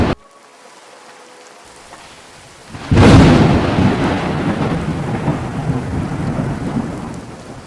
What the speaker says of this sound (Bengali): সন্ধ্যা হতেই তীব্র ঝড় শুরু হয়ে গেল। দেখতে দেখতে বৃষ্টির ধারা নামতে লাগল।